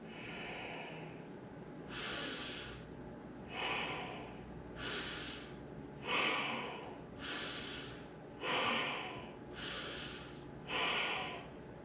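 Fast belly breathing in a breathwork exercise: about eight forceful, rhythmic breaths, each a close, airy rush, evenly spaced with brief pauses between.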